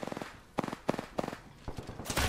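Video game gunfire during a team firefight, rendered as a rapid string of sharp shots in quick bursts, loud and close, with a denser volley at the end.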